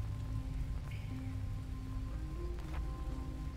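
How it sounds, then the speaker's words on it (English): Steady rain falling in a jungle in the survival game Green Hell, a constant dense hiss with low rumble, a few faint tonal game sounds drifting through, and no talking. "At least we're protected from the rain here."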